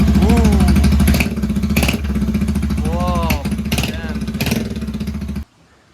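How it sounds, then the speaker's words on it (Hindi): A Royal Enfield GT 650 motorcycle engine runs with its exhaust removed, producing a loud, close, raw idling rumble with a couple of sharp revs rising and falling before it cuts off abruptly near the end. "तो अभी हमने एग्जॉस्ट निकाल लिया, तो आप विदाउट एग्जॉस्ट साउंड"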